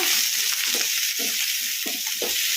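Chopped tomatoes fry in oil in a kadai over medium flame, giving a constant bright sizzle while a spoon stirs them in soft, regular scraping strokes.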